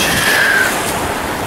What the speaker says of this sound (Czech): Dívejte, vlny.